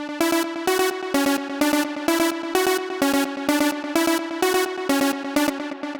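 A Pigments synth runs through Logic's arpeggiator in steady sixteenth notes, a bright, evenly pulsing stream of plucked tones repeating at a constant tempo, loud and alone throughout.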